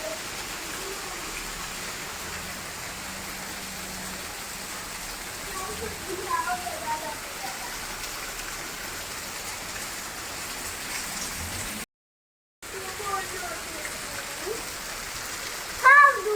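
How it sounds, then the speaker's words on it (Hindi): Heavy rain during a storm pours down, a dense continuous hiss with scattered patter, while voices talk faintly in the background. "कितनी जोर से बारिश हो रही है, बहुत जोर से हो रही है"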